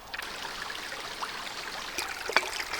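A shallow Scottish river flows steadily nearby, a continuous bright trickling and babbling with small splashes and no voices.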